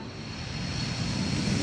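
A large military tanker aircraft taking off, its engines giving a steady, loud roar that builds slightly over a brief moment, with no voices.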